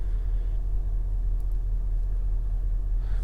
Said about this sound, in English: Does have a beautiful sounding V8. Having that valve open, you just hear it even more.